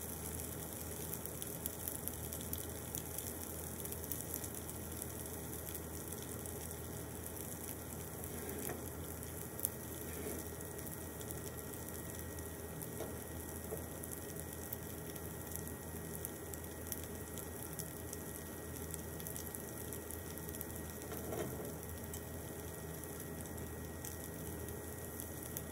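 Grated rosti potatoes frying in oil in a pan give a steady, fine sizzle that holds evenly throughout, soft and close, with occasional faint crackles.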